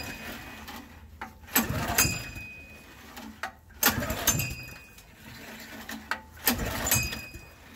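Honda 2.2 kW generator, left sitting for seven years and dosed with starting fluid, cranked repeatedly: three pull-start attempts with brief sputtering bursts that fail to catch, heard up close with no talk.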